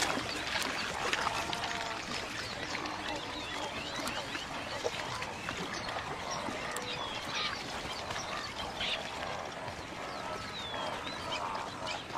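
Water birds gather to feed at drying fish pools in the Okavango Delta, a busy chorus of quacks, honks and chirps mixed with splashing and trickling water, steady and moderately faint.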